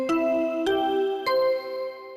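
The Danganronpa video game body discovery jingle strikes three loud, bright chiming chords about half a second apart, each ringing on with sustained tones.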